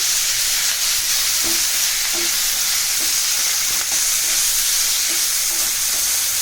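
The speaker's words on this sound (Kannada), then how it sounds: "ಟೊಮೆಟೊ ಕೂಡ ಹಾಕೊಳ್ತಾ ಇದ್ದೀನಿ. ಇದು ಕೂಡ ಚೆನ್ನಾಗಿ ಫ್ರೈ ಮಾಡ್ಕೋಬೇಕು." Soya chunks and tomato fry in a pan with a loud, steady sizzle and hiss throughout, broken by faint scattered clicks of stirring. No voices.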